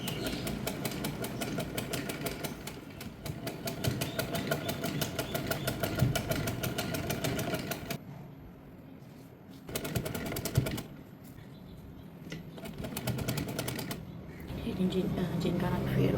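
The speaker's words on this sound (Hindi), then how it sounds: "इसके किनारे किनारे पे ना हमने सिलाई लगा देनी है ऑर्गेन्जा को फोल्ड करते हुए" A sewing machine stitches along a folded organza edge, running in a fast, steady mechanical chatter that stops and restarts a few times, with quieter stretches in between.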